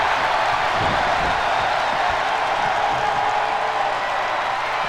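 Steady, dense roar of a video-game wrestling arena crowd cheering at a WWE 2K20 SmackDown match in Dayton, Ohio, holding level and loud for the whole stretch with no one talking over it.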